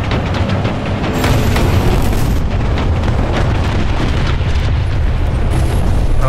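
A Leopard A1A1 tank cannon fires in a video game: one loud, deep boom that rolls into a long, heavy rumble and keeps echoing for several seconds, with no one speaking.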